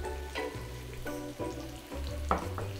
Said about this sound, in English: Give it a few quick stirs, and that's when we're going to add mustard seeds